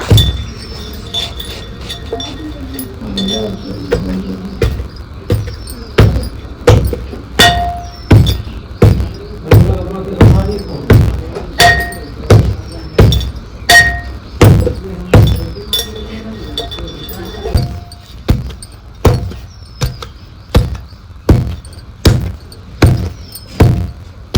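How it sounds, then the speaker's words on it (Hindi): Moong dal papad dough, greased with ghee, is pounded in a mortar with a pestle: loud, close, regular thuds with hard clinking edges, repeated dozens of times at a steady rhythm. "तो थोड़ा-थोड़ा ये आटा डालकर इसको कूटना है हमें"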